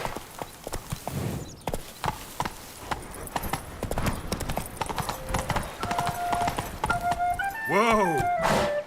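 Roach, a horse in The Witcher 3 video game, gallops with fast, loud hoofbeats close by, a voice calls out over them, and a rising whinny-like sweep closes the run.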